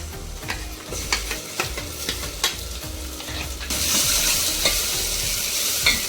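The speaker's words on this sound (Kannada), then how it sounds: "ಇದು ಮಸಾಲೆನ ಅದ್ರಲ್ಲಿ ಹಾಕ್ತಾ ಇದ್ದೀನಿ." Ground masala paste fries in a rasam pan while a spoon scrapes and stirs in repeated strokes, and the sizzle swells into a louder, steady crackle partway through.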